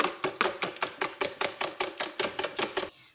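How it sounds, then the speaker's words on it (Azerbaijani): A whisk beats eggs with baking powder and salt for Tatar chak-chak, about fifteen brisk, evenly spaced clacks against the bowl, close and clear, then stopping. "Yumurtanı çalıb üzərinə qabartma tozu və duzu əlavə edirik."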